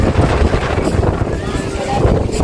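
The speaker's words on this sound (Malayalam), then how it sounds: "നല്ല കാറ്റുണ്ട്." Strong wind buffets the microphone on a moving, crowded boat, a loud continuous rushing roar with low rumble and voices faintly mixed in.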